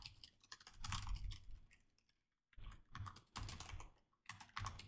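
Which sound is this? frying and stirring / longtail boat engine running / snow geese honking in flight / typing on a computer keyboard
typing on a computer keyboard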